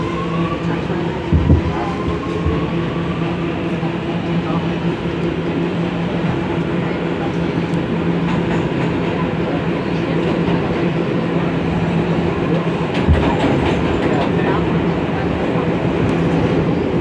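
An R211 F subway train rides the rails through a tunnel near Lexington Avenue–53rd Street, a steady loud rumble and rail roar with faint clicks and squeals throughout, no talk.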